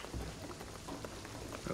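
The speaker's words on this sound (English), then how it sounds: "What I'm telling you is the rain is gonna flood it." Steady rain falls in the video game Shadow of the Tomb Raider, a dense even patter of drops on surfaces, faint and continuous with no voices over it.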